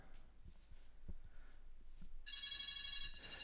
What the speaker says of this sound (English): So you heard the beacon.